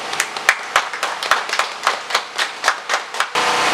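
A small group claps in loose, uneven rhythm with about a dozen distinct sharp hand-claps at a Mother's Day celebration in Haiti, ending in a steady broadband hiss.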